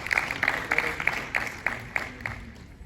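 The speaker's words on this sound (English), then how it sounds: "if you can give a round of applause for Ethan," Audience at a business conference on lead generation applauds as a speaker is called to the stage, a moderate, steady patter of clapping with regular louder bursts across the room.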